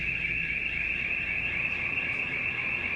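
Workplace alarm sounding continuously, a steady, piercing high tone that holds unbroken and loud throughout, with no voices.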